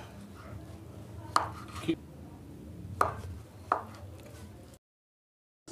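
A knife cutting through a block of hard tofu, bought at a market, on a board: a few sharp, separate chops spaced about a second apart, close and moderately loud, with quiet room tone between and no talking.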